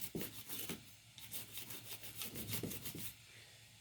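Quiet, close scrubbing with a stiff brush on Sig Sauer P220R pistol parts, quick back-and-forth bristle strokes rasping against the hard metal surface in uneven bursts.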